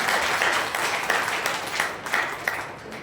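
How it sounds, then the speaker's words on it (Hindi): Audience applause for performers at a Tulsidas Jayanti school cultural program, a dense, steady wash of many hands clapping at moderate distance for about three seconds, with no talking over it. "एक बार इनके लिए जोरदार तालियां हो जाए"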